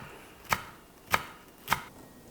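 Three evenly spaced, sharp knife strikes chopping green onions (scallions) on a cutting board, close and clear with no talk, each a crisp thunk about half a second apart.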